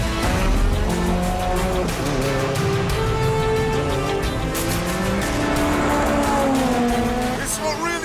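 A BAC Mono single-seat sports car drives hard on a track, its engine note rising and falling through gears with tires squealing, loud and close throughout, with someone talking over it.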